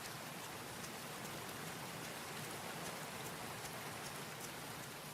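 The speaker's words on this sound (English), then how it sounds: "It needs to stop raining." Steady, dense rainfall in the farming video game Grimshire, a constant even hiss of drops on surfaces with no let-up and no voices.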